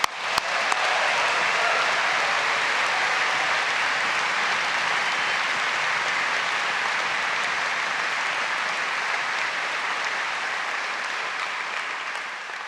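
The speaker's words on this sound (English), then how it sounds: "Come on, another cheer." A graduation ceremony audience in Caird Hall claps and cheers in a dense, sustained roar of applause that holds steady, then eases slightly toward the end.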